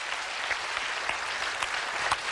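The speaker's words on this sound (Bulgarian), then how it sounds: "Аплодисменти" A television studio audience at a Bulgarian celebrity impersonation show applauds after a soft romantic song performance, a steady, dense wash of clapping sustained throughout at moderate loudness.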